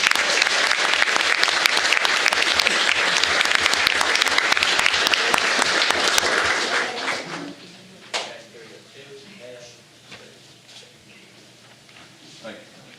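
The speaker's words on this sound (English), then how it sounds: "please join me in a round of applause and congratulations" Applause at a county board of education meeting rings out as dense, loud clapping from a room audience for several seconds, then fades to scattered claps and quiet voices.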